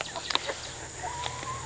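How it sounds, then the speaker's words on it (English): Backyard chickens cluck from a coop or pen, several short, fairly close calls bunched early and then scattered over a low steady background hum. "So where are the chickens that we put in here?"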